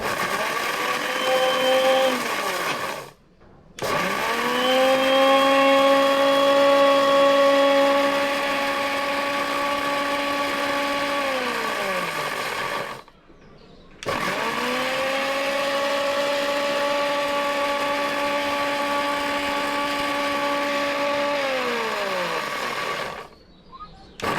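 An electric mixer grinder whirs steadily while grinding dried chilies into powder, running in two long sustained bursts with a loud, even motor drone, each cut off by a short stop.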